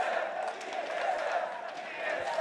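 A large arena crowd roars and cheers steadily at a League of Legends esports final between TSM and C9, a dense continuous wash of voices heard at a distance.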